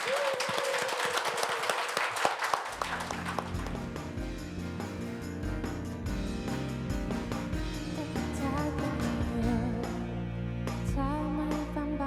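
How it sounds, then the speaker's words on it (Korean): An audience at a televised café talk show claps loudly for about three seconds before a live band starts playing, and the music carries on to the end. "여러분 박수 부탁드릴게요."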